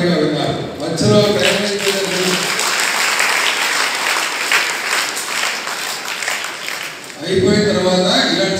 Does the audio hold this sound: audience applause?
yes